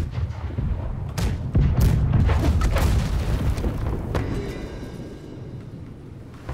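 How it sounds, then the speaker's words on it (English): Side cannons fire from a ship in the naval battle game Blackwake, a rumbling run of booms and thuds through the first few seconds, then fading into lower background rumble. "Right side cannons fire."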